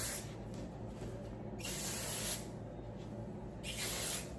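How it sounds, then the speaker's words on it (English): IGK Clear Gloss Shine Spray misted onto hair in two short hissing bursts, each about a second long, close to the mic over a steady low room hum. "I'm just gonna use this IGK Clear Gloss Shine Spray"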